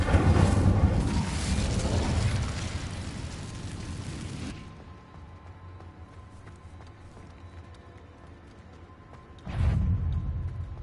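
Incendio fire spell cast in Hogwarts Legacy, a loud roaring, rushing blast of flame that sustains for several seconds before dropping to a low rumble, followed by a second short, sharp burst near the end.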